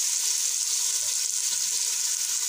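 Oil for biryani sizzles in a pan, a steady bright hiss heard close and even for a few seconds, without talk.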